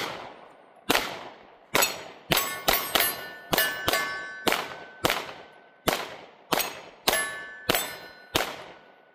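A Hellcat Pro and a Sig P365 XMACRO handgun fired outdoors, around fifteen sharp, loud shots in irregular succession, some quick doubles, each with a ringing decay.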